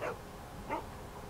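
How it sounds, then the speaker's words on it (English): Two short dog barks, each followed by a pause, from a dog in The Walking Dead video game. They are moderately loud against a low ambient background, with no talk. "What's he barking at?"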